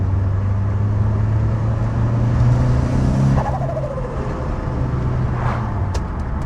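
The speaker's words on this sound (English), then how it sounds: "Is that, or is that not the best turbo sound ever?" A turbocharged car on a freshly forged engine rebuild accelerates under a steady loud engine drone, then lets off with a sharp turbo flutter or dump-valve whoosh midway, followed by a quieter idle-like hum.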